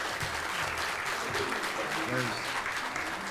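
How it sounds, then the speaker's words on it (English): An audience at a county library board meeting claps in a steady wash of applause, fairly close and continuous, with voices talking over it throughout. "I know everybody wants to clap"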